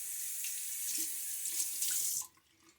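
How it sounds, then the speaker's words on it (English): Tap water runs steadily into a sink to rinse off after a wet shave, a close, continuous hiss of flowing water that cuts off abruptly near the end, with no voices. "Get a good rinse now."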